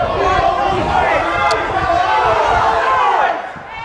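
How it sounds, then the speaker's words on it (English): Upset crowd at a boys high school lacrosse silver final, a dense wash of loud voices, shouting and chatter sustained throughout and close by, easing off slightly at the very end. "You can probably hear crowd's a little upset."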